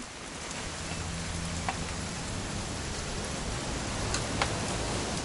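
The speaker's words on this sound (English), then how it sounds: "It's gonna rain the whole weekend, isn't it?" Steady video game rainfall in Red Dead Redemption 2 hisses evenly throughout, with a few sharper drops standing out; no voices.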